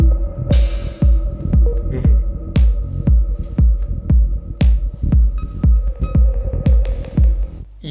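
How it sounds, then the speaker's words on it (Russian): A synthesized snare drum from a Teenage Engineering Modular 400, run through a vocoder, pounds in a steady, even pulse of about two hits per second, loud and close over a sustained humming drone. "как будет звучать получившийся снэр вместе с вокодером"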